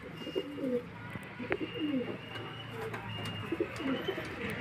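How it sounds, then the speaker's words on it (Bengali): Pigeons, an adult male and a young bird in a Beldanga loft, coo in soft, low, repeated rolling calls close by, over a steady faint background hum. "এই যে নর পায়রা, মাঝে একটু অল্প বয়সী পায়রা"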